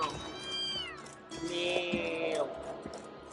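People mimic a cat with drawn-out meows, several sliding voiced calls in close succession, near but quiet, over faint game background sound in Borderlands 2.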